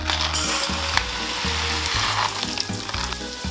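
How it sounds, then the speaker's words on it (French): Rice grains toast in a generous layer of olive oil at the bottom of a pot for a vegan leek and mushroom risotto, a loud, dense sizzle heard close up with a steady crackle under a low rhythmic rumble. "Je vais mettre une bonne quantité d'huile d'olive au fond pour faire dorer les grains de riz."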